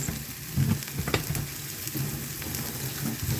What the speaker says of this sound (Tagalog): Inigisa ko muna yung patola para maging crispy siya